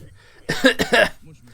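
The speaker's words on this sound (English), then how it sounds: "That wasn't a normal coughing sound." A single short cough in two quick bursts from the video game Higurashi, close and fairly loud against a quiet background.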